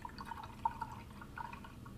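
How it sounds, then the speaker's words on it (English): Paintbrush swished around in a cup of rinse water while switching paint colors, a soft, close liquid dribbling and dripping with a few brighter plinks, quiet and without talk. "I'm swishing in my water with my brush to get all the original color out"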